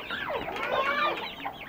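Aseel chickens on a farm in Shah Allah Ditta, Islamabad, cluck continuously in overlapping, rising and falling calls from several birds close by.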